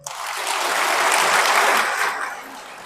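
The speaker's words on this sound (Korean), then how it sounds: "지금 준비된 사람들 박수 한번 쳐보세요" A Korean church congregation claps in response during a sermon, applause swelling to a dense peak then tapering off over a few seconds, many hands together at moderate distance.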